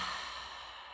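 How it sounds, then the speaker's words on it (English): A single long exhale during a guided EFT tapping exercise, a soft breathy rush that fades gradually over about a second, close and alone. "and exhale,"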